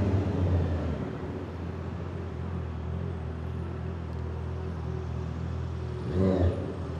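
Dense night-time traffic heard from a big motorcycle such as a Kawasaki ZX10R or Honda CB650R, a steady low engine rumble and road hum with a brief louder rev near the end.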